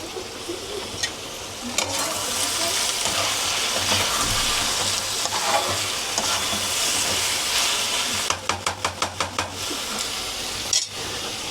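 Onions cooking down in a curry in a pan give a steady, close hiss and sizzle. Occasional utensil knocks punctuate it, and a quick run of sharp taps comes near the end. No one speaks.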